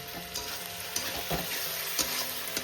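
Poppy seed paste fries in a pan with a little water added, a soft continuous sizzle with a few light stirring knocks at regular intervals, no one talking.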